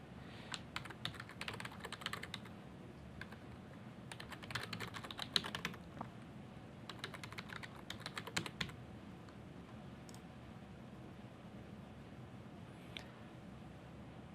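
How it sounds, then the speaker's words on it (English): Keystrokes on a computer keyboard enter a username and password, coming in three quick clattering bursts over the first nine seconds, then a few isolated taps against a quiet room. "I'll type in my username and password again"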